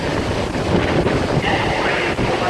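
Indoor fans blow at full blast on a hot New York City day, a loud, steady rush of wind buffeting the microphone with constant roaring noise.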